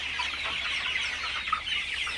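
Faint clucking and soft chatter from many fifty-day-old Sonali super hybrid chickens, a low continuous murmur of fowl with no single bird standing out.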